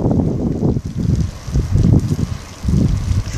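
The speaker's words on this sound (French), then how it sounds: "C'est un peu venteux." Gusty wind blowing outdoors near a harbour and a bush, heavy low buffeting against the microphone that comes in repeated surges and brief lulls.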